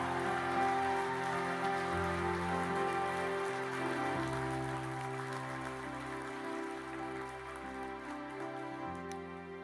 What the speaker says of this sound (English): Give Jesus a big hand clap all over this place.